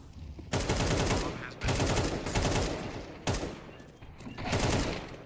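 Gunfire in a Counter-Strike match fills the scene in four loud volleys of rapid automatic shots, each burst lasting about a second, separated by short gaps and heard up close.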